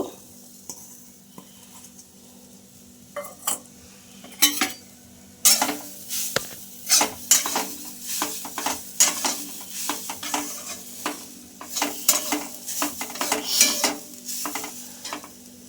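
A spoon stirs grated coconut for patisapta filling in a wok on a gas stove. After a quiet start, repeated close scrapes and clinks come over a faint sizzle.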